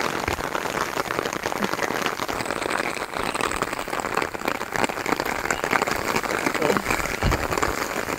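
Heavy rain falls at Prut Falls in Cherrapunji, Meghalaya, a constant close hiss and patter of drops with a person talking over it.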